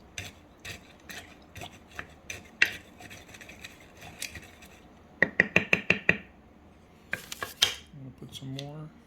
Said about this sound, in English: And stir it up